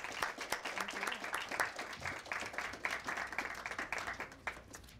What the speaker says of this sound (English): I'd like you to join me in a round of applause and thanks for our distinguished panel and